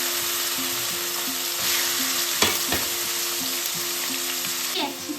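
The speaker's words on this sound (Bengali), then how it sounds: "তেলের উপরে দিয়ে দেবো একটু রসুন বাটা, তারপর দিয়ে দিচ্ছি কিমাগুলো," Mutton keema frying in hot oil with garlic paste, a close, loud crackling sizzle with a few sharp scraping stirs of a spatula against the pan.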